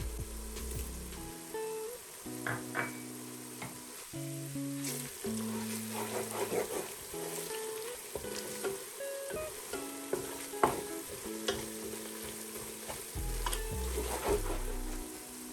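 Star anise, black cardamom and white cumin fry with garlic-ginger paste for beef trotters, a soft steady sizzle with crackling pops and spoon scrapes under quiet background music, no talking.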